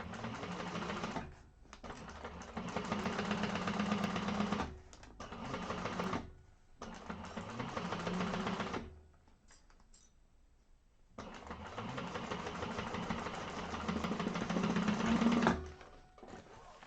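A sewing machine top-stitches through the bottom panel seam of the Alexandra bag, running in steady bursts of fast stitching separated by short pauses, close and fairly loud, with no talk.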